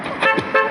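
A car horn honks from a passing vehicle at a street protest against ICE in Minneapolis, giving a few short, loud, close blasts.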